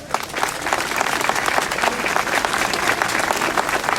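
Steady, dense applause from a crowd at an outdoor rally in support of the Palestinian people, loud and sustained throughout with no pauses.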